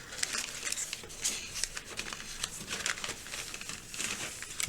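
Origami paper being valley-folded by hand, close crinkling and rustling with soft crackles as the sheet is creased and pressed flat.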